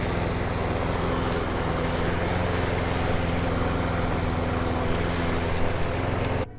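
A Troy-Bilt TB360 push lawn mower engine runs steadily close by, a continuous buzzing drone with no pauses or noticeable changes in pitch throughout.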